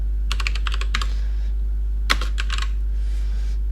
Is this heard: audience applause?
no